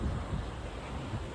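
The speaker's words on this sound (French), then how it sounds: "Du coup, ça grave du vent." Strong outdoor wind buffets the microphone in a low, rumbling roar that holds steady for a moment, with no other clear sounds.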